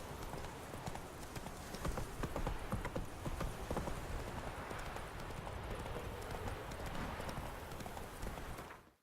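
Horse hooves clip-clop at a steady gallop in The Witcher 3, loud and continuous for most of the stretch before cutting off abruptly at the end.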